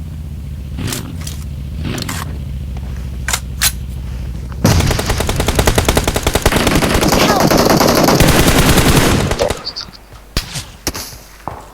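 Gunfire in the mobile battle royale game PUBG Mobile: a few separate sharp shots, then a long loud burst of rapid automatic fire lasting several seconds, fading to scattered shots.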